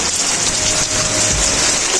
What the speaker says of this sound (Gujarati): હવે વરસાદ ચાલુ થઈ ગયો છે